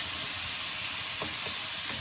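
About 1 kg of beef browning in a hot pan for beef stew, giving a steady, close sizzle with a couple of faint utensil taps.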